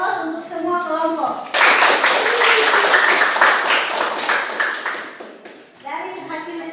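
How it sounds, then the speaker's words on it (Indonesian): A classroom of students and their teacher bursts into loud, dense clapping for all the groups, the applause swelling then fading over several seconds between bits of talk before and after. "Dan terakhir beri aplaus untuk semua kelompok."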